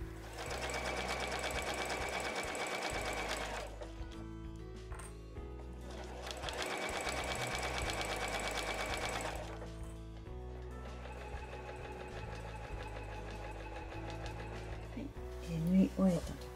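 A sewing machine sews a 1 cm seam on a large tote bag made of quilted nubi fabric, running in three long, steady stretches of rapid mechanical stitching with short gaps between them and light handling noise near the end.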